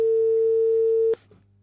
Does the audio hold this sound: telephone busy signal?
yes